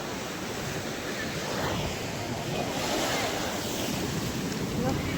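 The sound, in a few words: sea waves breaking on the shore at Dwarka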